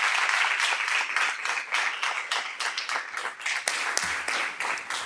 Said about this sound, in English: Please give me one more round of applause for all of our students and their amazing work.